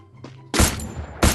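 Gunfire in the Free Fire video game: two loud, sharp bursts of shots about half a second apart, each with a short noisy tail, preceded by a faint thump.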